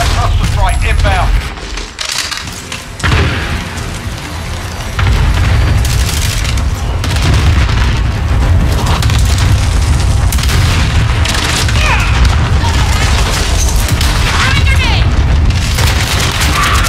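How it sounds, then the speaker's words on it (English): Heavy cluster strike explosions boom in rapid succession during a Call of Duty Modern Warfare (2019) multiplayer match, with loud low rumbles layered over distant gunfire and game voice callouts. "Allied cluster strike inbound."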